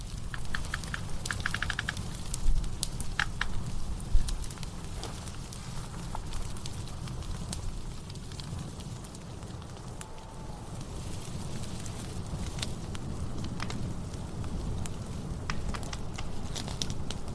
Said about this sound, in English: In the silence, with only the crackling of fire for company, Sean huddled near the flames.